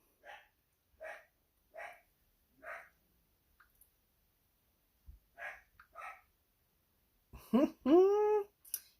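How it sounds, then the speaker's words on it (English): A dog barks several times in a slow, evenly spaced series, fairly close, then after a pause gives a few more barks ending in louder, drawn-out howling yelps. "Mom's live, let's start barking"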